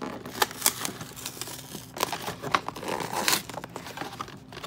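Taped and glued plastic toy packaging for Barbie Dreamhouse furniture being pulled apart up close, a continuous crinkling and crackling with sharp tearing snaps scattered throughout.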